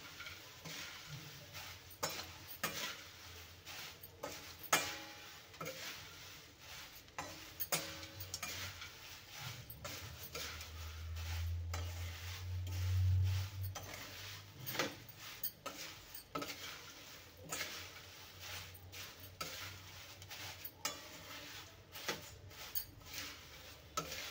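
Thin flattened rice (poha) being stirred for chivda in a pan with the heat off, giving soft, irregular scraping and ticking of a spoon against metal, faint and close, with occasional clinks and no speech.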